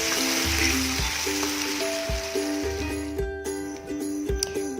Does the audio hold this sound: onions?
yes